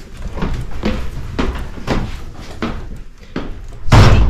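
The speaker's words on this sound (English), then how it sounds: "Even Minecraft door sound effects." A bunkhouse door opens and closes repeatedly, giving a series of close, sharp knocks and clunks at a fairly regular rhythm, ending in a louder, heavier thud.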